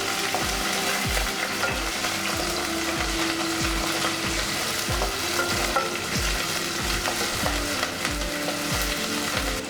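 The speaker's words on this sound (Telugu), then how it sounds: "ఉల్లిపాయలు, కరివేపాకు, ఎండుమిరపకాయలు వేసుకుని మనం ఫ్రై చేసుకుందాం." Onions, curry leaves and dried red chillies fry in a pan for prawn masala biryani, giving a loud, steady sizzle with repeated scraping stirs throughout.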